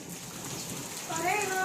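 Steady rain falls outdoors as a constant broadband hiss, with a faint tonal whine rising near the end.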